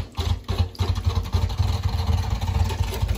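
A small apartment-sized spin dryer whirs with a wet coyote pelt inside, giving a steady low motorized hum with a rhythmic rumble, close and fairly loud.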